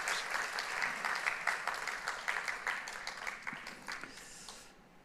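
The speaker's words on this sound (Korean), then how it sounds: "귀한 우리 찬양대 격려하면서 크게 박수하도록 할게요" Sustained applause from a church congregation for the choir, dense steady clapping that gradually fades out at the end, with no talking.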